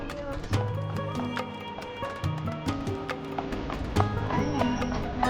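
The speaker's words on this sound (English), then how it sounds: "Horses are getting tired" Horses clip-clopping along a street in Marrakesh, a steady sequence of sharp hoof taps on hard ground, close by, with voices talking over them.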